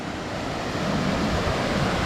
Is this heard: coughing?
no